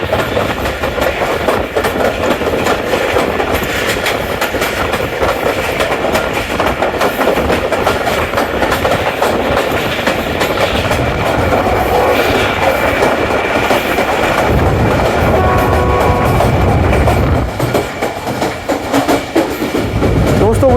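The Awam Express rumbles along the rails between Peshawar and Rawalpindi, a loud, continuous roar with rhythmic wheel clatter heard from on board.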